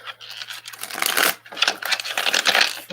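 Tarot cards being shuffled up close in bursts of crisp riffling and scraping, with short pauses between each pass and no talk.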